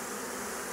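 Honeybees from a swarm circle over a hive box, their many wings making a thick, unbroken buzzing drone that holds steady and near for the whole moment.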